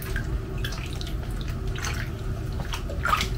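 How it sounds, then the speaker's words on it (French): Tap water running into a kitchen sink while food is rinsed a second time, a steady close splashing with small drips and spatters throughout, no voices. "Là, juste je rince une deuxième fois."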